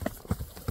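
Horse hooves clip-clop on the ground in a few irregular, fairly close steps as the animal is turned left and right, a large horse being shown for sale at a livestock market.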